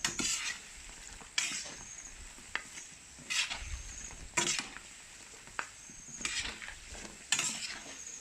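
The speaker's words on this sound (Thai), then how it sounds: "ถ้าเราหมั่นคนตอนช่วงที่เรารีดน้ำมันเขาออกเนี่ยค่ะ" Pork skin and fat frying in oil over a charcoal stove, a steady close sizzle broken by repeated scraping stirs of a utensil against the pan, with no talking.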